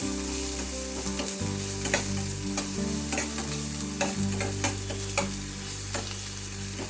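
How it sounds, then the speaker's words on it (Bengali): Onion frying in oil with a little butter in a pan sizzles steadily and crackles close up, with periodic stirring scrapes and soft clicks under a low, constant hum. "তেলটা হয়ে গেছে পেঁয়াজটা দিয়ে দেবো হালকা করে একটু পেঁয়াজটা ভেজে নেবো"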